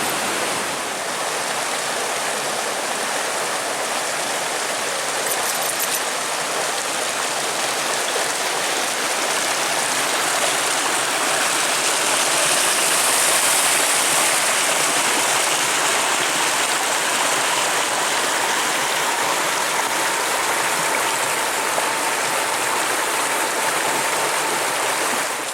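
Water streams down into a hidden rock chamber along the Pemigewasset Trail in Franconia Notch State Park, White Mountains; a steady, loud rushing roar that holds unbroken throughout with no voices.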